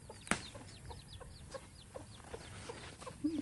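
Chickens cluck in short, scattered calls against a steady outdoor background, with one louder call near the start and a slightly closer cluck at the end; no one speaks.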